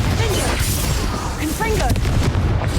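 A Confringo fire spell blasting in Hogwarts Legacy, heavy booming bursts and crackling impacts under dense game noise, with a voice shouting briefly in the mix.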